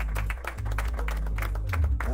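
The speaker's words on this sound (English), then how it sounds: "I think this should receive a big round of applause." Audience applause at a CEO conclave in 2025: dense, continuous clapping from a crowd, fairly loud and steady throughout, sitting over a low droning hum.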